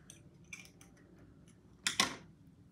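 Scissors are handled nearby with a few light metallic snips and clicks, then a louder sharp double snip near the end.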